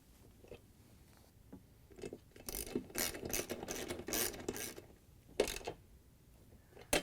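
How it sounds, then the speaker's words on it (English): A ratchet with a 1/2-inch socket tightens the tub bolts on a GE washer during a tub bearing replacement. Quiet at first, then bursts of rapid clicking and rasping, fairly close and irregular, with no talking. "we can put the bolts back in. We're going to use our 1/2-inch socket again."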